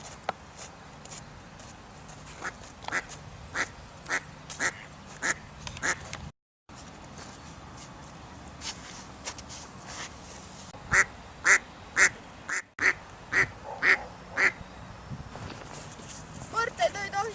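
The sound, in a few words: ducks quacking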